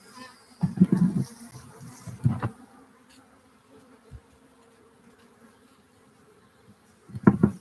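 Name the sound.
honeybees buzzing during hive installation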